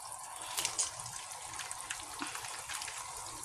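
Shrimp cooking in a pan with water for cheesy buttered garlic shrimp, giving a soft, steady watery sizzle and trickle close by, with a few brief clinks of a utensil.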